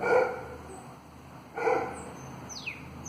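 A dog barks twice, a few short woofs spaced about a second and a half apart, moderately near, with faint chirping from a bird in the background of an indoor stretching workout.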